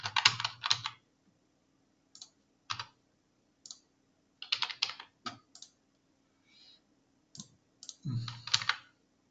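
Bursts of typing on a computer keyboard as dummy data goes into a website lead form: quick clusters of crisp key clicks separated by short pauses, close and clear over a faint steady hum.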